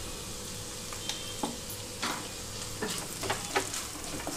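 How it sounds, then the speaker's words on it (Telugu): Salted okra fries uncovered in a pan over a low flame with a soft, continuous sizzle, broken by light clicks and scrapes of stirring. "సాల్ట్ వేసిన తర్వాత మూత పెట్టకుండా వేయించుకుంటున్నాను"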